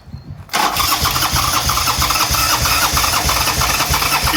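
A Buell Cyclone motorcycle that has stood unused for five years cranks with a short rhythmic churn, then bursts into loud, close, uneven running that continues to the end.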